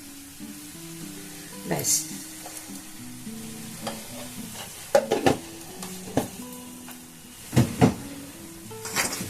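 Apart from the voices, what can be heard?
date palm jaggery stirred into sizzling carrot halwa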